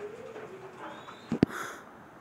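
Pigeons in a loft give a soft, brief coo or two midway through an otherwise quiet stretch, with faint background bird calls.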